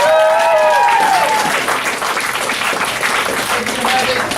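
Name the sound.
graduation audience applause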